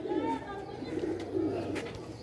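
Ali wale pigeons make a close, continuous low cooing murmur with throaty rolling phrases, and a voice is faintly audible alongside.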